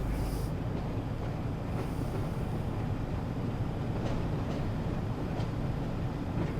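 A locomotive in the video game Train Sim World 2 runs with a continuous, loud rumbling drone and faint rhythmic clatter, steady throughout with no talk.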